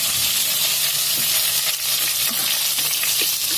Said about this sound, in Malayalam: കടുക് പൊട്ടുണ്ട്, കടുക് കടുക്.